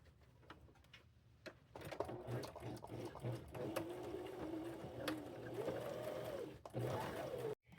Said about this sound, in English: So I'm going to sew this across and then sew this on.